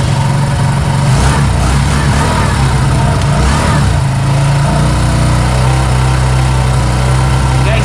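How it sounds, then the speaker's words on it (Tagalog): Kawasaki CT125 Bajaj motorcycle, 2024 model, warming up at a steady idle: a close, continuous engine putter with a constant low hum and no voices. "Painitin natin muna ng konti para maiparinig ko sa inyo ang tunugan ng ating 125 Bajaj."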